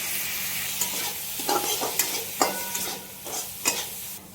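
Spices and boiled peas sizzling in a pan while a spoon stirs and scrapes, the steady frying hiss broken by repeated close scraping strokes, with no talk.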